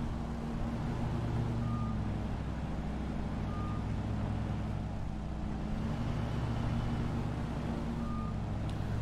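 A large riding lawn mower in the Lawn Mowing Simulator video game drones with a steady engine hum while reversing beeps sound three times at spaced intervals, with no talking.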